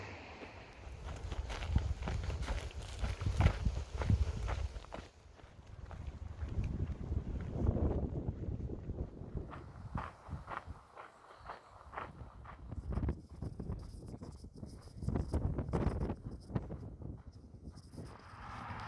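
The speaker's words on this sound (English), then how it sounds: "So I'm on a very windy road walk into East Glacier Village right now." Strong wind gusts buffet the microphone in rough, roaring waves on a road walk into East Glacier Village near Glacier National Park, with footsteps crunching along underneath and passing pauses in the gusts.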